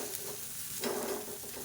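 Rice puttu is stirred with fried onions in a hot pan, giving a soft, steady sizzle with light scraping and stirring sounds close by.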